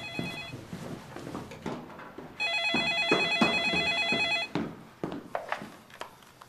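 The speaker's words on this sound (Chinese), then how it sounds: "我去接个电话。" A telephone rings indoors in a burst of electronic trills lasting about two seconds, set among background chatter and movement at a birthday gathering.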